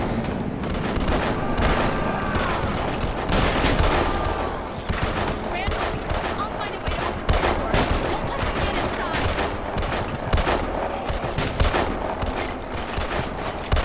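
Rapid gunfire in the zombie survival video game Deadlight: dense, continuous bursts of shots with a cluttered in-game background. Someone talks over the shooting.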